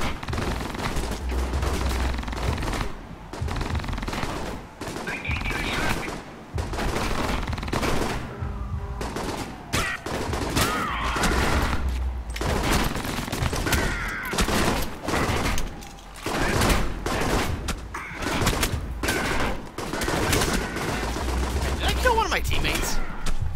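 Heavy automatic gunfire from death cannons in the video game Alpha Protocol rattles in dense, loud bursts with booming impacts, layered under game voices and chatter throughout.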